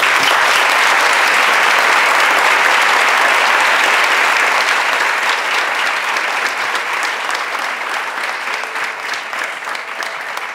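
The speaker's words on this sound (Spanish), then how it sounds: "Un aplauso para él" A theatre audience at an amateur drama workshop performance claps warmly, a loud, sustained, even round of applause that carries on for about ten seconds and eases slightly toward the end.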